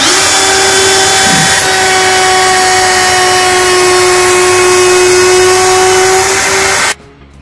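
Handheld router milling beech heartwood, a loud steady high-pitched whine held for about seven seconds before cutting off abruptly.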